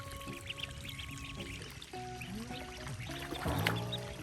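Ducklings splash around in fresh water on a small farm. Pouring, rippling water runs throughout, broken by thin, rising peeps and calls, with a louder splash near the end.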